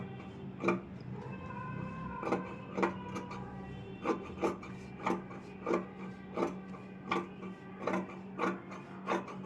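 Scissors cutting fabric for an Aari work blouse, a regular series of sharp snips repeating about every half second, close and crisp over a low steady background hum.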